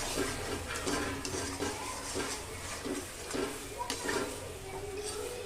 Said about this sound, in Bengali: খুব ভালো করে নাড়তে হবে এটাকে